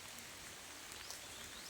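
Steady rain falls as a soft, even hiss with faint patters of drops, quiet and continuous throughout, with no voices.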